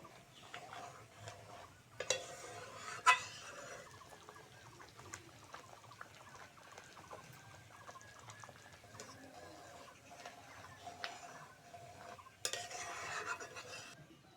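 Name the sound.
stirring carrot and rice payesh in a pot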